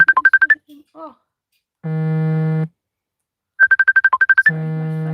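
A mobile phone ringtone plays a quick run of bright electronic beeps, then a long steady tone, and the same pattern repeats, loud and close with silence between bursts.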